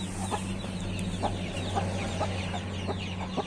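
Chickens cluck softly in repeated short notes, several birds close by, with chicks present, over a steady low background hum.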